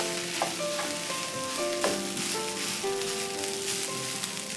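A rice mixture cooks in a pan over a medium flame, giving a steady close sizzle with a couple of light utensil knocks, music playing faintly underneath and no speech.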